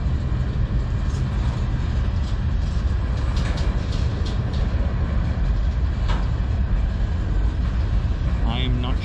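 An eastbound CN manifest freight train led by locomotives CN 3062 and CN 3879 rolls past in Sarnia, Ontario after heavy rain, giving a loud, continuous rumble and rattle of railcars with faint squeals throughout.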